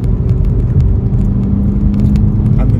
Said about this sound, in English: you can hear the exhaust, you can hear the turbo spooling